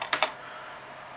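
Two quick keystrokes tap on a computer keyboard during BIOS setup, sharp and close, followed by a quiet background hum.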